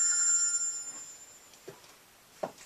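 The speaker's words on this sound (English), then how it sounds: "Is that your phone?" A telephone rings with a thin, steady electronic tone during an indoor interview. The ring is faint and continuous at first, then gives way to a few soft knocks.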